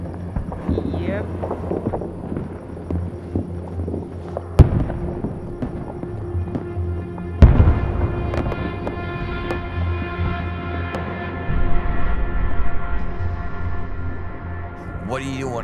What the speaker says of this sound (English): love fireworks.